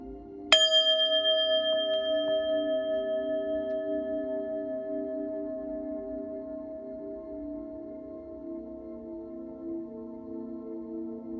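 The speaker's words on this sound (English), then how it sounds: "I'm going to ring the bell" A single clear strike of a small bell before a tarot reading, ringing out with a bright metallic tone that decays slowly over about ten seconds, close and alone.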